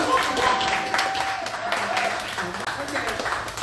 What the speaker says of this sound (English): Let's give Lucy another round of applause.